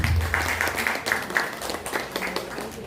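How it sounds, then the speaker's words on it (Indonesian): At a one-day motivational workshop for teachers, the audience claps in a rough, uneven patter at moderate volume, with brief voices mixed in beneath the clapping. "Tepuk tangan buat kita."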